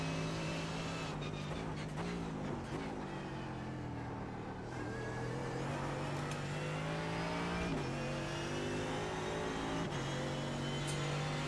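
Race car engine in the iRacing sim game, a continuous loud whine with repeated rev climbs and drops as gears shift, steady throughout with no talking.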